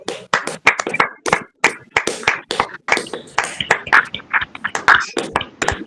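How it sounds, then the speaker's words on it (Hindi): A church congregation at a Sunday prayer service claps loudly in praise, a dense, steady run of sharp hand claps that fills the whole stretch with no talk over it. "हम भी एक ऊंची ताली के द्वारा परमेश्वर की महिमा करें।"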